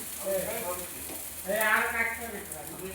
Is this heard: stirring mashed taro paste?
yes